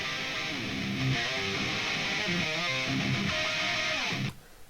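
Heavily distorted electric guitar through a Guitar Rig 5 Hardcore 51 preset, a dense, saturated metal riff with chugging low notes and shifting chords, played steadily and loud before cutting off abruptly near the end.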